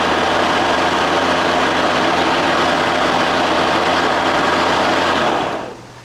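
A Kobalt KM 5224A-06 48V electric lawn mower runs with a steady, loud motor whine and blade hum for several seconds, then spins down and fades at the end.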